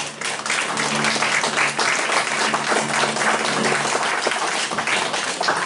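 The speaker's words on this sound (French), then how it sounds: "Applaudissez-moi, je crois." A church congregation applauds loudly and continuously, a thick wash of many hands clapping, with faint voices calling out underneath.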